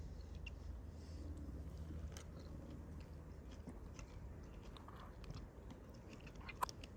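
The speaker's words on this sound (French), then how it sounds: "il y a encore une fois un truc qui craque, qui croustille, je sais pas ce que c'est, ça se trouve c'est les pois" Someone chews a crunchy vegetarian trail meal with peas or corn while out on a long-distance hike. The close, quiet crunching and biting runs steadily over a soft, constant outdoor background.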